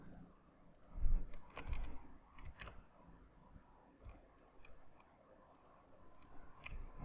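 A computer mouse clicks while shapes are selected in PowerPoint, a handful of quiet, sharp, sparse clicks spaced irregularly over faint room tone, some in quick pairs.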